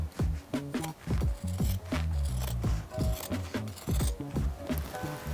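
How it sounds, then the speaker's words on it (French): Scissors cutting through denim jeans fabric close up, a run of crisp snipping and crunching strokes in an uneven rhythm, quiet and with no voices. "sinon on peut couper directement. Ça dépend de votre astuce avec les ciseaux"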